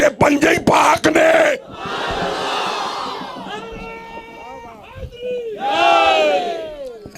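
A large crowd at a religious gathering chants slogans in loud unison, bursts of massed voices rising and falling in waves with shouted calls between them, sounding close and reverberant.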